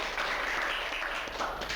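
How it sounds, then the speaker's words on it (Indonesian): A podcast crew and studio guests give a short, brisk round of clapping, fairly close and steady, with a few separate claps standing out near the end. "Tepuk tangan dulu dong."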